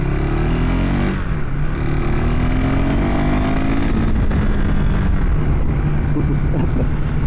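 A KTM 390 Adventure R motorcycle engine revs and drones loudly and up close, its pitch rising and falling as the bike accelerates.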